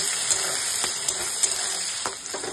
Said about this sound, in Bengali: এটাকে ভালো করে একটু ফ্রাই করে নেব।